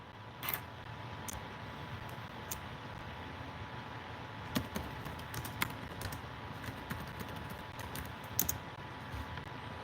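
Computer keyboard typing, quiet and fairly close: scattered keystrokes and short bursts of clicks with irregular rhythm over a low room hiss, no voices.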